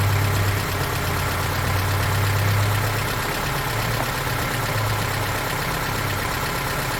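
A Honda Element with a swapped-in engine idles in a steady, even low rumble that holds for several seconds with no speech.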